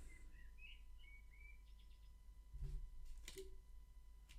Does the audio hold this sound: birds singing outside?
yes